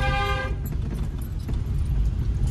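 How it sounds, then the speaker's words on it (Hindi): A car horn blares once, loud and close, for about half a second in a narrow lane, then gives way to the low rumble of the engine and road noise. "लॉन्ग हॉर्न पुश करो"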